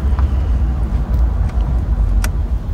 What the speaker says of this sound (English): You'll see here we'll let off the wheel, get on the brakes. It stops nice and straight.